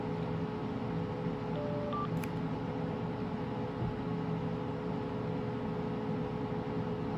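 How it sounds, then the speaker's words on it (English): A 2001 flip phone powering off gives a couple of short, faint electronic beeps and a soft click, heard close up over a steady background hiss. "So I am going to power off this phone."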